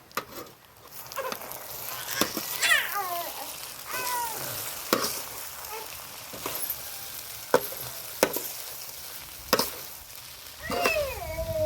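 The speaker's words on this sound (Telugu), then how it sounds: "సోయా సాస్ వేసుకుందామండి కలుపుదామండి అన్నీ కలిసేటట్టుగా" Vegetable fried rice with soy sauce being stirred in a pan, giving a steady soft sizzle with scraping spatula strokes and sharp clinks against the pan, close up and without talk.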